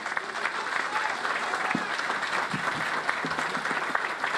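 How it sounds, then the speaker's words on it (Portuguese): A crowd at a Brazilian housing program announcement applauds for government ministers, clapping steadily from middle distance with scattered voices and faint talk mixed into the wash. "Eu queria pedir uma salva de palmas ao ministro Rui Costa, ao ministro Paulo Pimenta."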